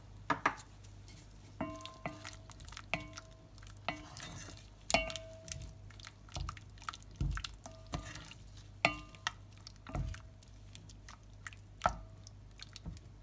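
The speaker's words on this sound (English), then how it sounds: "Now we're going to pop in the coconut cream." Coconut cream stirred into a one-pot prawn curry, a spoon clinking and scraping against the pot in irregular knocks with soft wet squelching between, close and fairly quiet.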